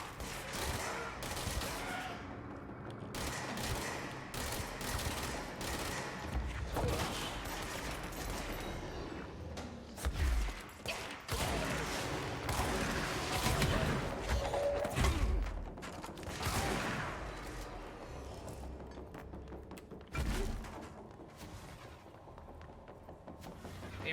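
Rapid bursts of gunfire in the video game Control crackle through a dense, busy soundscape, with repeated volleys and mechanical clatter running almost continuously and a few sharper, louder shots standing out.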